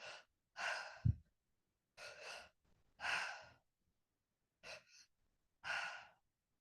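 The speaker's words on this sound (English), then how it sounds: "we're going to breathe all the way down into our belly first and then into our chest" Deep, active breathwork, drawing air down into the belly and then the chest: a series of strong, close breath bursts, inhales followed by releasing exhales, with short pauses between them.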